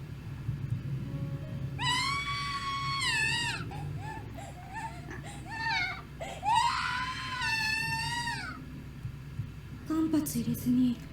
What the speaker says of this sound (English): the first of the girls in line is the next to scream for her life